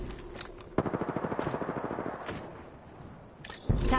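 Rapid automatic gunfire from the video game Apex Legends bursts out in a fast, even string of close, loud shots after a quieter opening, then fades before a sharp new burst at the end.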